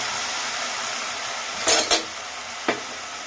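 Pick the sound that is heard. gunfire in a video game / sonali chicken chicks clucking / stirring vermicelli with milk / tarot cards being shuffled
stirring vermicelli with milk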